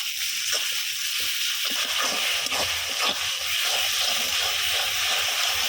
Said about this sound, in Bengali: এখন আদা রসুনটা সুন্দর করে ভাজা ভাজা করে নেব।